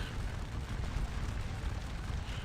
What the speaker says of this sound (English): right now we're letting our artillery do the work